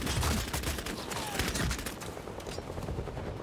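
Automatic gunfire in the Bloodhunt video game during a team deathmatch, a steady rattling stream of shots at moderate loudness, fading slightly toward the end.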